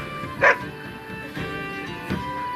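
A dog in the fantasy video game Dragon Age: Origins gives three short barks and yips spaced over a couple of seconds, set against a steady bed of game music.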